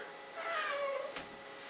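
A pet cat gives a single clear, drawn-out meow indoors, fairly close and moderately loud, followed by a brief soft rustle.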